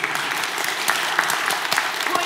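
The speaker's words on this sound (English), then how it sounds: "You can clap, by the way, it's cool." An audience claps steadily throughout at a Cambridge Union debate on confidence in the police, with dense, sustained applause filling the hall.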